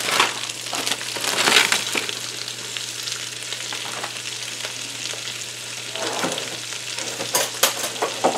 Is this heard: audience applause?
no